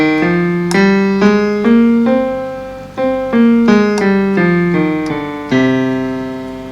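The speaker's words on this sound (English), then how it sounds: "You probably remember another name for Aeolian mode is natural minor." A keyboard plays the Aeolian mode, the natural minor scale, as a sequence of sustained single notes stepping through the scale, each struck clearly and ringing into the next, alone and up close.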